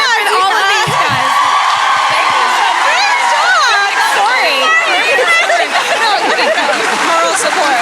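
A live audience at a My Favorite Murder podcast show at the Vicar roars with loud cheering, whoops and shouts, a dense, energetic crowd noise with overlapping voices throughout.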